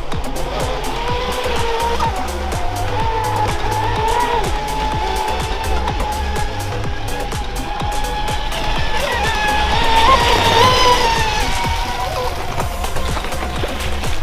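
Large 6S electric RC model cars, including a Kyosho 888 VE, Traxxas and Josway models, race and corner hard, giving a loud continuous whine with tire squeal and skidding that swells midway while a commentator talks now and then.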